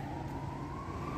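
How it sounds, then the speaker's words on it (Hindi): Emergency siren, police or ambulance, wailing on a city street, a faint, distant rising tone held over low traffic rumble for a moment. "उस तरफ से पुलिस या एम्बुलेंस भी आ रही है"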